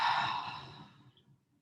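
One slow, deep exhale at the close of a yoga session, breathy and fading over about a second and a half, heard alone.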